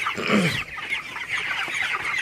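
A flock of 36-day-old broiler chickens clucking and murmuring together close by in intense heat, a continuous busy chatter with no talking.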